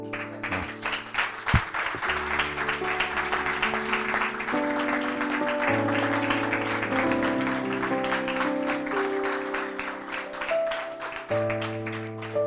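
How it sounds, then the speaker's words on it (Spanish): A congregation at Casa de Oración Berazategui applauds during a church service, the clapping mixed under sustained keyboard or organ chords that shift through several harmonies for the whole stretch. "Un aplauso del Señor por esto"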